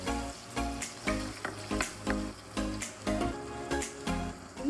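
Chopped garlic frying in butter for chicken soup, a bright crackling sizzle that swells and eases in a regular rhythm about once per second as the pan is stirred, close and clear.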